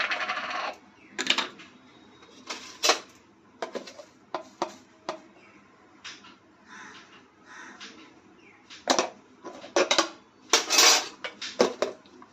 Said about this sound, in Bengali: নুন দিয়ে একটু ফেটিয়ে নিচ্ছি